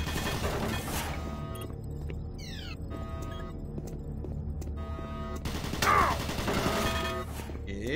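Automatic turret in Doom 3 firing in sustained bursts of rapid gunfire, dense and loud throughout, with mechanical whirring and a sharper burst near the end amid game sounds.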